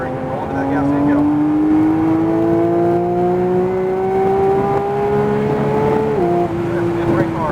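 Porsche 992 GT3 on a race track pulling hard, its engine tone climbing steadily through a long run before a quick drop at a gear change, loud and near from inside the car.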